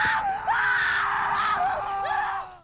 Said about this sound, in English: those screams were intense, bro